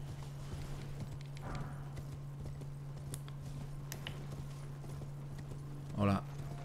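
Horse hooves clip-clop in Elden Ring gameplay, a steady moderate rhythm of hoof falls over constant game ambience with a low hum, ending in a brief louder burst.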